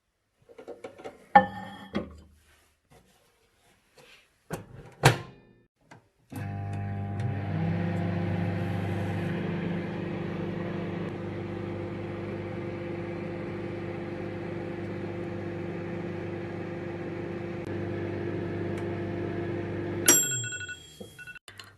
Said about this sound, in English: So let's pop it into the microwave.